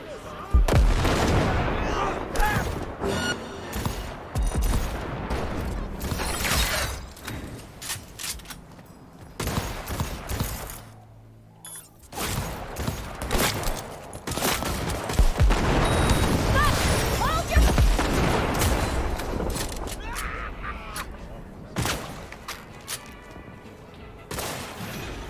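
Shotgun blasts and other gunfire in Cyberpunk 2077: Phantom Liberty, set in Dogtown, come as loud repeated booming bursts with short gaps of quiet, and a voice is heard in between.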